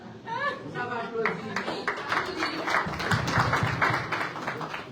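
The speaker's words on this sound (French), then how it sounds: "Ça va applaudir." Audience applause at a gathering in Guinea, a dense patter of many hands clapping that builds and holds for several seconds, with a voice speaking over the start.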